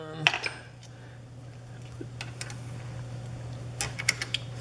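Metal jaws of a lathe chuck being flipped and handled, giving several sharp clinks and taps spread through a few seconds over a low steady machine hum.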